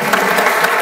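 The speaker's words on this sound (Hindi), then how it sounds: "बट अब ठोको ताली।" An audience at a teaching session claps, giving a loud, dense burst of applause that fills the short moment without any break.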